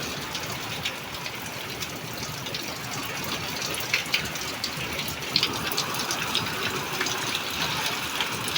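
Nearly full rain gauge emptied outdoors after an April hailstorm and downpour, water gushing and splashing steadily with small clinks of the container, mid-level and close, no talking.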